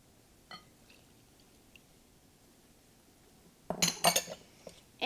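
A whisk clinks and scrapes against a bowl as chocolate pudding mix is beaten into milk, starting with a faint early tap and then a loud, busy burst of metal-on-bowl rattling near the end.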